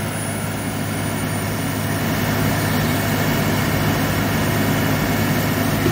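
A John Deere 9230 tractor engine labours steadily up a hill while digging a pond, a loud, continuous low diesel roar with a constant drone and no pauses.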